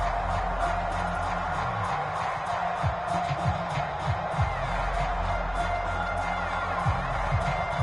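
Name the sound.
home crowd cheering at a football game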